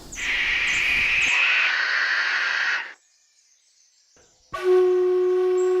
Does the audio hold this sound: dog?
no